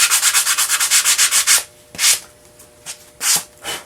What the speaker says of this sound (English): Unless you were doing white, then you might want to sand a little bit more.